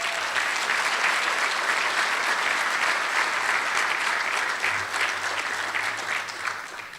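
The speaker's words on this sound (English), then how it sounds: "Let's give them all a round of applause." An audience at an annual charity fundraising event gives sustained, dense applause for several seconds, steady and close, tapering slightly near the end.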